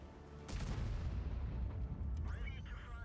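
A tank cannon fires in World of Tanks with one loud, sharp boom, followed by a sustained low rumble and a short whistling trail as the shell flies off.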